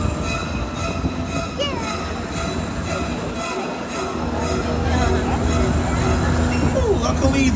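Universal Studios Hollywood tour tram rolling along with steady rumble and faint wheel squeals, rising slightly louder near the end.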